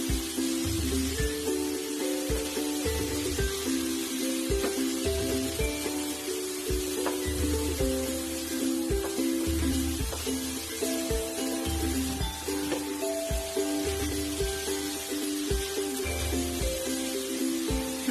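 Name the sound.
modak stuffing with melted jaggery frying in a pan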